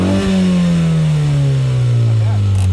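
A 2021 Mini Cooper JCW GP engine revved in neutral, a loud, close tuned engine note that swells and then settles in pitch over a few seconds.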